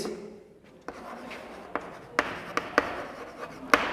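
Marker or chalk writing a topic heading on a classroom board, heard as short scratchy strokes with sharp taps, fairly close, over a quiet room with no talk.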